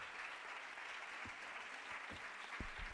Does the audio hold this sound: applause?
yes